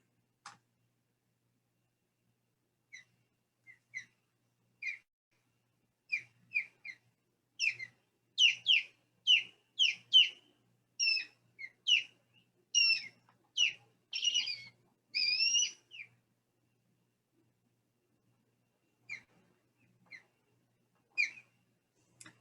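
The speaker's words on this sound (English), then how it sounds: "Okay, here is the call of the Osprey." An osprey call plays from a recording: a series of sharp, high whistled chirps, sparse at first, then a dense run of rapid repeated calls in the middle before trailing off, faint against near silence.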